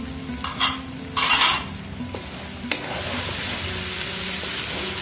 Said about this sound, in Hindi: यहाँ वेजिटेबल्स को मैंने हाई फ्लेम पे कुक किया है तकरीबन 5 मिनट